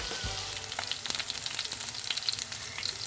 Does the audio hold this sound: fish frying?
yes